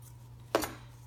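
Scissors trim loose threads and the edge of a scrap-fabric quilted fall leaf, making one crisp, close snip against a faint steady hum.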